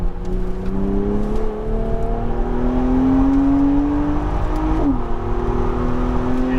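A Mercedes-AMG SLC 43 turbo engine revs hard on a race track and climbs through the gears, the pitch rising steadily with a brief shift, loud and close with a whirring turbo tone.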